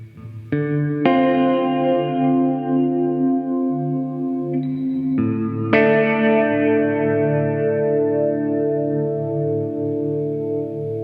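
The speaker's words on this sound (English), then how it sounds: "take that plate reverb and add some modulation to it. That's the plate mod setting." Sustained electric guitar chords ring out through a lush plate reverb with a gentle wavering modulation (the plate mod setting of a Hardwire Supernatural pedal), several strums blending into long, shimmering tails.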